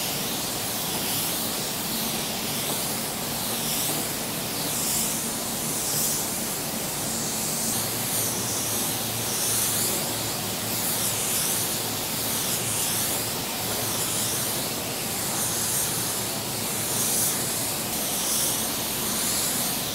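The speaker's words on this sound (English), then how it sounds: "We just finished spraying our sealer." A spray gun lays sealer onto a car bumper cover with a continuous, even hiss that holds steady and unbroken for the whole stretch, close and alone.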